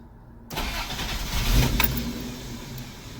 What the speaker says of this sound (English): I was talking about the engine noise on that hood insulator